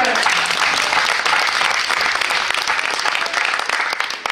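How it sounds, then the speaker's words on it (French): Audience applause in a French television studio during a special Christmas broadcast, sustained loud clapping from a crowd lasting the whole stretch and tapering slightly at the end. "on peut applaudir à Ariane."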